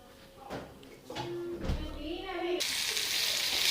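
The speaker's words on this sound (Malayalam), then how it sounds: "ഒരു ചട്ടി ചൂടാക്കിയിട്ട് നമുക്ക് ലേശം വെളിച്ചെണ്ണ ഒഴിക്കാം." Talking at first, then a sudden loud sizzling hiss bursts in as coconut oil hits a hot pan and keeps going.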